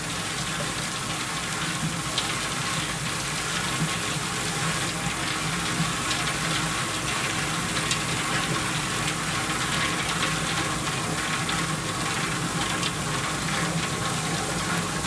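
A popcorn machine running, a steady motor hum with a broad whooshing noise held at an even level throughout, no talk over it.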